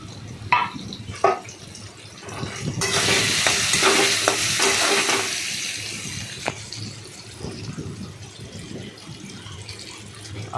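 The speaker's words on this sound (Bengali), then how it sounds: "আলুটা আমার ভাজা হয়ে গেছে।" Potatoes frying in a pan with a couple of chillies, a steady broadband sizzle punctuated by scraping stirs, louder in the middle stretch, with no talking.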